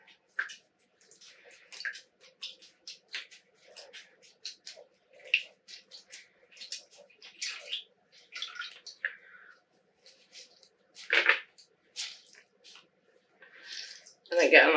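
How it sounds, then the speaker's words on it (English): Water squeezed and dripping from a freshly dyed yarn skein, with soft irregular splashes and trickles, alongside occasional speech. "There we go. And squeeze out the water."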